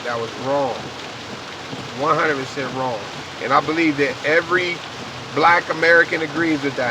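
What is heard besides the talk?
rain falling in the background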